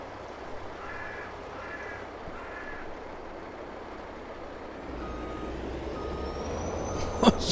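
A truck in Farming Simulator 22 idles with a low engine rumble, three short reversing beeps near the start, then a rising engine note and a sharp hiss near the end, with no talk.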